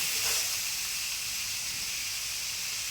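Potatoes for a fish curry with black cumin paste fry in a pan, giving a loud, steady sizzling hiss that runs unbroken throughout with no talking.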